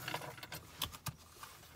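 Keys jangle in short bursts, a set of truck and shop keys shaken and clinking a few times at close range with quiet pauses between, no talking.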